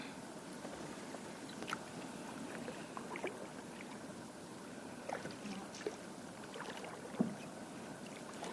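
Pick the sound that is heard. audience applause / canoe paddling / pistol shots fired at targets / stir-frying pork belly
canoe paddling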